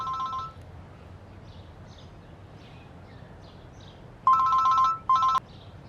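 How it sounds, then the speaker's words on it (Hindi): A mobile phone rings in short electronic trill bursts, one at the start and then two more near the end, against a quiet background with faint chirps. "तुम्हारे फोन की आवाज चीख चीख कर कह रही है कि मुझे रिसीव कर"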